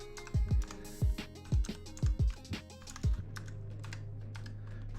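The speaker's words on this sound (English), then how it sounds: "Let me get my keyboard here." Someone types on a computer keyboard nearby in a short irregular burst of loud key clicks, then stops and leaves a low steady hum.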